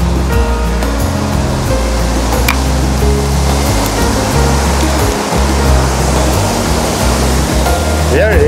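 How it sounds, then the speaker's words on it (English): Third waterfall on Black Creek, a loud, continuous roar of falling water filling the clip, with a low rumble running beneath it. "Third waterfall on Black Creek."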